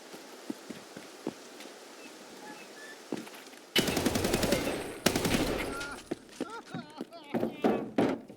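Bursts of automatic gunfire from the shooter game Escape from Tarkov on the Interchange map, a few sparse shots first, then dense loud rattling volleys with brief pauses.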